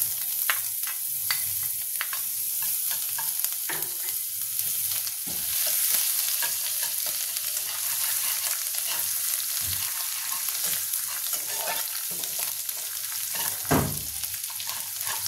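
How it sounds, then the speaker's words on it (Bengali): Grated ginger and whole cumin seeds sizzle and crackle in hot oil, a continuous bright frying hiss with occasional stirring scrapes, close and steady without any talking. "আদাটা আমাদের ভাজা ভাজা হয়ে গেছে"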